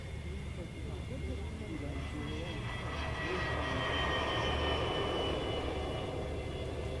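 An aircraft takes off at an airfield in light wind, its engine roar building into a steady, fairly loud drone that lasts throughout, with indistinct voices underneath.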